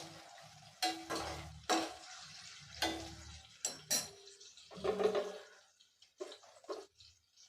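Chopped garlic cloves tipped into a pan of frying shallots, giving bursts of sizzling and scraping stirs that come in uneven pulses, with quieter crackling frying between them.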